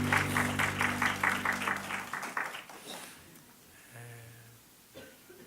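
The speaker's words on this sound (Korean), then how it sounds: "감사와 영광의 박수를 올려드리겠습니다." A congregation applauds during a Sunday church service, clapping over sustained musical tones for about two seconds before the sound thins out. It fades into near quiet with faint lingering tones.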